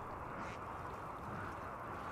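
Ducks quacking in the game Rimworld while being hunted, a steady busy layer of calls over a constant background, fairly faint with no voices.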